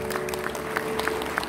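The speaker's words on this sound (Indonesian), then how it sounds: "Oke, tepuk tangan Bapak Ibu." Audience clapping at a business presentation in Indonesia, a short burst of scattered, fairly light hand claps with distinct individual claps audible over a faint steady hum.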